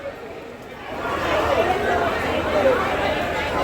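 A crowd of passengers bound for Digha packs a busy railway platform, producing a steady, close murmur of many overlapping voices that builds after the first second and holds throughout.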